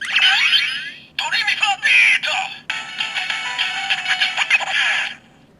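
A bright Kamen Rider Gashat toy jingle plays in short bursts, broken by a quick scratchy record-scratch warble partway through, then cuts off into quiet.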